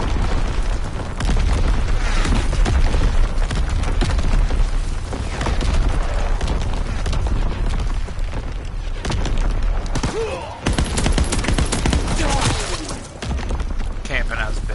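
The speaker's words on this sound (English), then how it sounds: "Incoming enemy artillery!" Heavy incoming enemy artillery pounds the battlefield in a WW2 video game, a continuous barrage of loud, deep booms and blasts filling the whole stretch with only brief dips, voices faint beneath.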